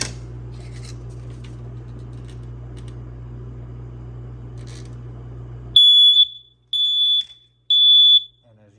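After a stretch of steady low hum and faint handling noise, an old smoke alarm set off by candle smoke sounds three loud, shrill, evenly spaced beeps.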